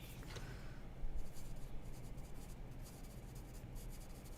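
Notes are written by hand, a quiet close scratching of pen on paper in short strokes running throughout, with no talking.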